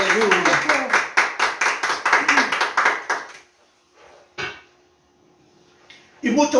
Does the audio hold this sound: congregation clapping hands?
yes